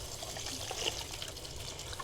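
Hot water from a tap running and splashing steadily through hair as shampoo is rinsed out, a continuous close hiss of pouring and trickling water.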